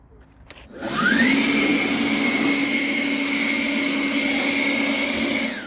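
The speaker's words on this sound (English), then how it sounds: "Now what I do is I grab my blower." A handheld blower starts with a rising whine and then runs at a steady loud roar, blowing sawdust out of a MechMaxx SM-22 22-inch sawmill, close by and alone.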